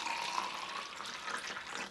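Regular tap water running from a faucet as the control sample in a water filter test, a soft, steady hissing stream, fairly faint and continuous with no talking.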